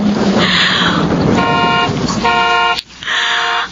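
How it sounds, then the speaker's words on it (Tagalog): A car pulls up outside a house and sounds its horn in two short toots over a loud, steady engine rumble, then the noise briefly drops and picks up again, with no talk over it. "Ay, kotse na ni Jerome yun."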